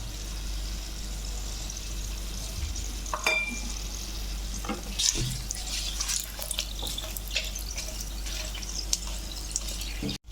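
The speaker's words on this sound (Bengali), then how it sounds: "এবার আমি পেঁয়াজটা কুড়ি মিনিট আমি পেঁয়াজটা ভাজলাম" Onions fry in oil with dried chilli, bay leaf, cinnamon and cardamom, giving a steady close sizzle with occasional stirring scrapes and small clatters throughout.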